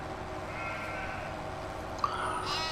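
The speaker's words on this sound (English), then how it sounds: "there's a black sheep in front of me somewhere" A sheep in a farming video game gives a single bleat at moderate distance, over a steady low background hum with faint tonal game sounds.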